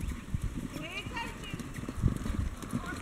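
Horses cantering together in a circle at drill practice, their hooves clip-clopping in a quick, uneven rhythm at mid distance while people talk over them.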